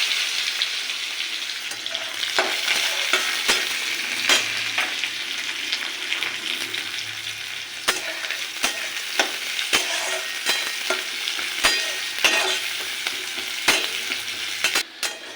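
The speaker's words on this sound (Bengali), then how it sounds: "পেঁয়াজটা ব্রাউন করে ভেজে নিয়েছি" Chopped onion fries in hot oil in a kadai with nigella seeds, a steady crackling sizzle broken by sharp clinks and scrapes of a stirring spoon throughout, with no talking.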